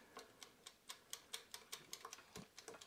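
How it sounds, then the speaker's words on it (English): The mechanical timer on a Daewoo halogen air fryer ticks in a steady, even rhythm, faint and close, about a dozen crisp clicks with no talking. "you can hear the timer ticking away right there"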